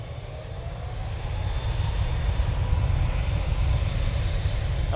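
A TUI passenger jet at Manchester Airport roars steadily as a broad, continuous engine rumble that swells slightly louder over several seconds, heard at some distance with no talking.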